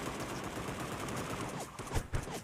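Rapid gunfire from the video game Sausage Man, a steady rattle of shots with a few louder, closer bursts near the end, heard alone without talk.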